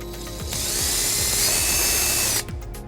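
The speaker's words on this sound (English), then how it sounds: "what we're first gonna do is drill the back hole" A power drill whirs up to a high, steady whine for about two seconds while boring a hole into a 2005 Volvo XC90 for trailer wiring, then winds down, close by.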